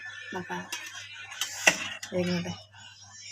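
Dishes and cutlery clink and scrape while Kottayam-style fish curry is served at home, with a sharp clatter midway and a voice talking in between.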